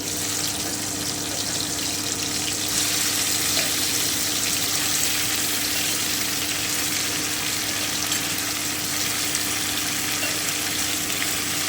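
Marinated white cauliflower frying in a pan with whole cloves, cinnamon and cardamom, a steady close broadband sizzle that holds evenly throughout with no talking.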